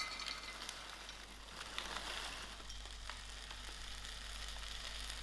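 Frozen whole blueberries drop into a warm small pot on moderate heat and set off a soft, steady sizzle with faint crackles that runs evenly throughout, no voices.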